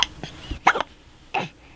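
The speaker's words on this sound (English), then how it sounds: "Right now, she has the hiccups." Newborn baby hiccups: three short, squeaky little bursts spaced unevenly over a couple of seconds, close and fairly soft against a quiet room.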